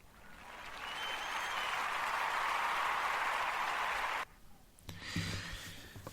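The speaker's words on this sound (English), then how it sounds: "That was a fake applause" A canned applause sound effect swells into a steady, loud wash of clapping and cheering, then cuts off abruptly, followed by faint low rumbling noises.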